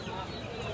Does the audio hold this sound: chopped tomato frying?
no